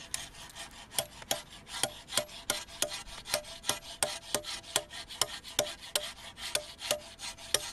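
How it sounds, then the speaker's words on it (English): A chisel working a block of springstone for a Shona sculpture, struck in a steady, even rhythm of sharp scraping taps about twice a second, close and clear with no voices. "he's applying the chisel"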